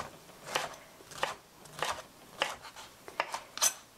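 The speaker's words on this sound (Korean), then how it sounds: "이렇게 다져 주시는 거예요." Tofu being minced with a kitchen knife on a board: soft, evenly spaced chopping strokes about every half second, close and moderately quiet, with no talking.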